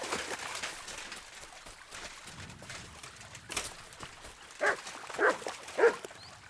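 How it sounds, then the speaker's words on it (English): A dog in a woodland setting gives three short barks or whines toward the end, moderately close, over faint rustling and background noise. "Good dog"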